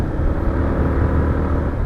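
Bajaj Platina motorcycle engine droning at high speed on a highway, a steady, loud low rumble mixed with wind noise, close to the rider and continuous throughout.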